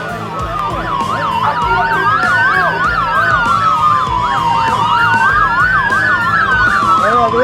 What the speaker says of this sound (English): the cops were standing still, sounding their sirens loudly for no reason in front of homes at night.